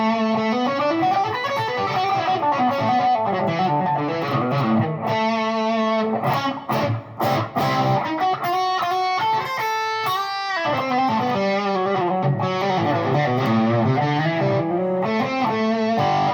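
Heavily distorted electric guitar on the bridge pickup of a Peavey Predator Frankie Kamikaze build, run through an Uber Metal pedal into a Cerberus with its drive on, playing sustained riffs and chords loudly and continuously alone.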